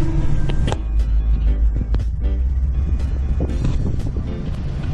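A car rolls through a gated community of large houses on half-acre lots, its steady low engine and road rumble running continuously with wind buffeting the microphone and occasional bumps.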